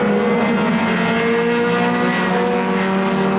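Mini stock race cars roar around Flamboro Speedway, a dense, continuous engine drone from several cars at once, loud and steady throughout.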